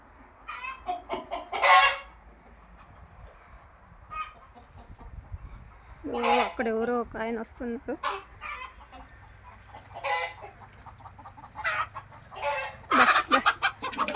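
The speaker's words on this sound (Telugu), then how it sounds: "మా కోళ్ళు చూడండి ఎలా గాబరు పడిపోతున్నాయో." Agitated hens cluck and squawk nearby in bursts of repeated calls, with a person speaking briefly in between.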